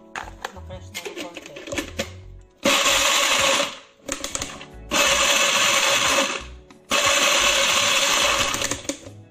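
An electric blender crushing diet cake ingredients runs in three loud whirring bursts of a few seconds each, with clattering and handling noise between them.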